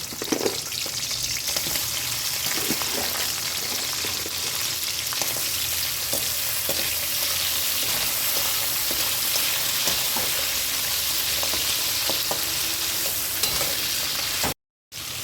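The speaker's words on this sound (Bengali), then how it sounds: "আগে আগে আমি কাঁকড়াটাকে একটু ভেজে নেব" About two kilograms of local crabs fry in batches in refined oil for a spicy Bengali crab curry, giving a loud, steady sizzle and crackle with occasional stirring scrapes, close and continuous, no talking, with a brief dropout near the end.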